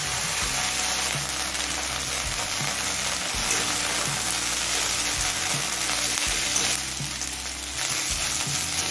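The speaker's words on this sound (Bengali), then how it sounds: "আদার কাঁচা গন্ধ চলে যাওয়া পর্যন্ত কষিয়ে নিয়েছি" Ginger paste sizzles with browned onions in a hot pan while being stirred, a loud, continuous crackling fry with scraping strokes, and no voices.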